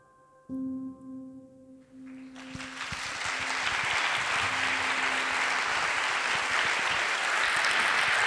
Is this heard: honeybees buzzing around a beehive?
no